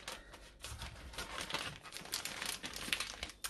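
A plastic piping bag crinkles and rustles close by as protein custard cream is loaded into it. The crackles come in quick irregular bursts, with no talking.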